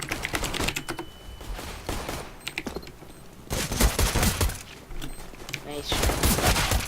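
Desert Eagle pistol fire in a CS:GO pistol retake round comes as sharp, rapid cracks in irregular bursts, mixed with clicky keyboard-like clatter at moderate loudness.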